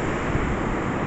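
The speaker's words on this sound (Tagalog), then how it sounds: "Ganda ng alon." Ocean waves rolling onto a beach in San Francisco, a continuous broad wash of surf with wind blowing across the microphone, steady and close throughout.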